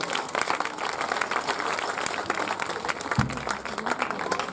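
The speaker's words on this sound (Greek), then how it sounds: "Ένα χειροκρότημα, παρακαλώ." An audience claps at an end-of-term celebration for a summer school, a short burst of applause from a crowd heard close by. A brief low thump comes near the end.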